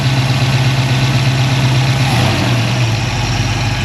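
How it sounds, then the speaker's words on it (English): A carbureted Ford Mustang engine runs steadily at fast idle, close and loud, with a constant low hum and no voices. "That should be the fast idle."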